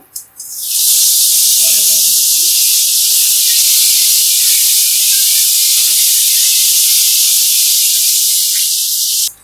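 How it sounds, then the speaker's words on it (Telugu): Garlic and dried red chillies fry in a pan in a home kitchen for a spinach fry, giving a loud, steady, close hiss of sizzling oil that runs unbroken after a short quiet start. "వెల్లుల్లి 1 స్పూన్, ఎండుమిర్చి 2 వేసుకుని ఫ్రై"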